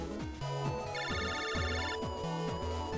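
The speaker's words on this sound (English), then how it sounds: "Lan, a phone call from Dex." Electronic phone ringtone from Megaman Battle Network 3, a steady chiming melodic tone repeating over about three seconds, with game music running beneath it.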